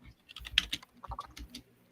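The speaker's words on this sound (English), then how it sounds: "Sitting here trying to shake the water out of my keyboard." A computer keyboard with spilled water inside is shaken and tapped, giving a handful of close clattering knocks and rattles in irregular bursts against a quiet background.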